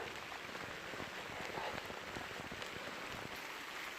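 Steady rain falling in a UK garden in July, an even, close hiss of drops pattering on surfaces with no pauses and no voices.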